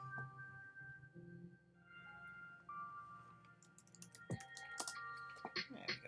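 Scattered keystrokes on a computer keyboard come in a quick cluster near the end, faint clicks over steady tonal game music and background hum.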